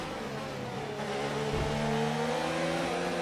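Formula 1 race car engines in the F1 2019 video game during an overtake, a loud sustained whine with rising and shifting engine tones as cars run side by side.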